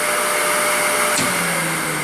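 Spindle of an Eldorado Model M75-1061 twin-spindle gun drilling machine running at about 1500 RPM, giving a loud, steady, broadband whirring hum with a slight shift in tone partway through and no talking.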